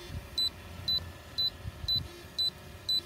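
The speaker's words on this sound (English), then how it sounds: "the controller should start beeping at us" An Autel drone remote controller beeps six times in a steady rhythm, short clear high-pitched tones about half a second apart over a faint hum.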